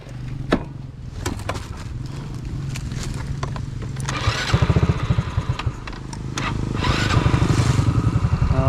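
A dirt bike motorcycle engine revving unevenly, starting with sputtering idle and sharp pops, then rising into rapid throbbing bursts of revs that swell and fade, loud and close with no talking.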